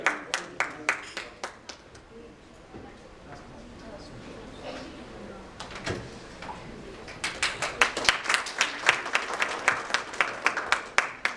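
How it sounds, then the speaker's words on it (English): Audience applause at an annual convocation of an insurance institute in Kolkata, clapping in bursts that thin out in the middle and swell again into sharp, close claps toward the end, with some voices mixed in. "Can we have a round of applause, please?"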